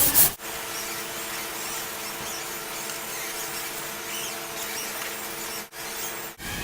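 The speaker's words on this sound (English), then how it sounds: "So sand just a little bit more and we'll just about have this." Hand sanding of body filler with 150 grit sandpaper, a steady close rubbing hiss that continues evenly with only brief pauses.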